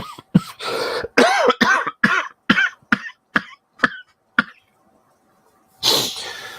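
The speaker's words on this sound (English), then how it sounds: "I don't have much of a cough, but when it kicks in," A burst of harsh coughing fits, about ten sharp rasping coughs in quick succession, close and loud, then a pause and one more rough cough.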